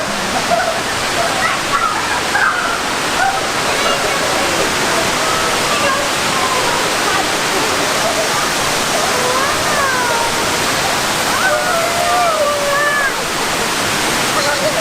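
A large waterfall in Japan pours in a loud, constant roaring rush, with music and singing faintly carried over the top.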